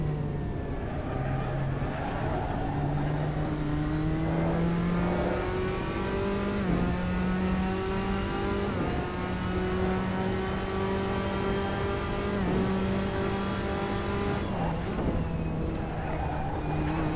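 A Tatuus Formula Abarth racing car laps Imola in the Assetto Corsa racing game, its engine screaming loudly and continuously, rising and dropping in pitch through gear shifts and braking.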